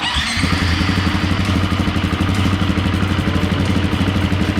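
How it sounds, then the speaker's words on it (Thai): A KTM Six Days motorcycle engine, started cold, rumbles steadily at close range, a loud rapid chugging idle that fills the whole stretch. "สตาร์ทเลยนะอันนี้เครื่องเย็นนะสตาร์ททีเดียวครับ"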